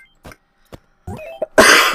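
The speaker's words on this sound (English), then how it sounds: "I'm coughing into my shoulder." After a few faint scattered noises, a single loud, harsh cough bursts out close to the microphone, muffled as if into a shoulder.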